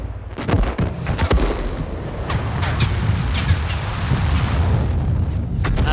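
Tank artillery fires in World of Tanks: a few sharp, loud booms land in the first second or so, followed by a steady wash of loud battlefield rumble.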